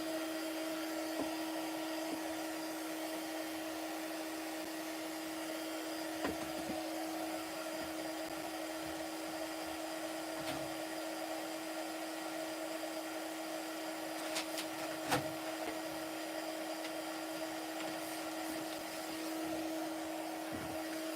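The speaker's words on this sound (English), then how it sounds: "I'm just going to put my heat gun on. Sorry about the noise." A heat gun used for heat embossing in card-making blows hot air in a steady, loud whir with a constant tone, running throughout with a few small clicks and bumps.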